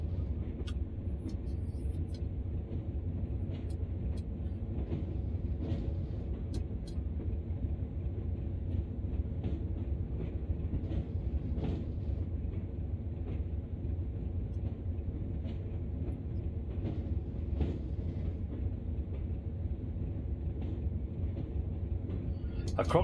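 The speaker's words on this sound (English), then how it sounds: "A Crompton is one of the locos that's on your TS 2019 menu screen, Moggy." A Class 33 Crompton diesel locomotive running on the West Somerset Railway in Train Sim World, a steady low engine rumble throughout with occasional faint clanks and a voice talking over it.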